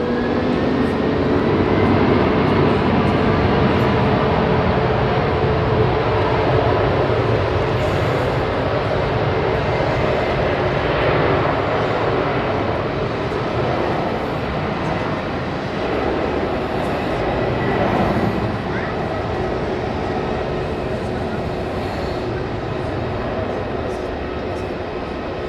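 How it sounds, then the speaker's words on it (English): An Airbus A319 at Hamburg Airport produces a loud, continuous jet roar that holds steady for the whole stretch, with broadband rumble and a slowly drifting whine. "John's loving the A319 livery."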